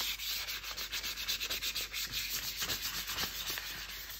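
Light, rhythmic sanding strokes across a carved wooden goldeneye drake, a soft scratchy swishing repeated steadily and close by, with no voices.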